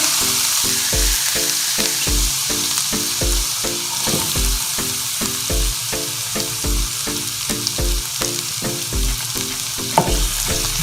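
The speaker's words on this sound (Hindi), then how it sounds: "प्याज को हम सौते करेंगे।" Onions sautéing in a pan for pizza sauce, a steady close sizzle with rhythmic stirring scrapes throughout, loud and alone.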